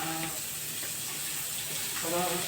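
Water pours steadily onto a plant, a continuous broadband splash with a few faint tonal voice-like traces at the start and end.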